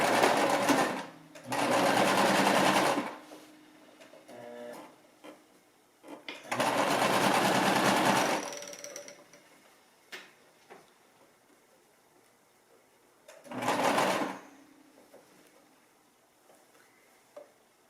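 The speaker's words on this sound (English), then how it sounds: "So I'm going to start sewing right in this area." Sewing machine stitching through thick old denim jeans while a purse is made, running in three bursts of steady motor whir with quiet gaps and a few small ticks between them.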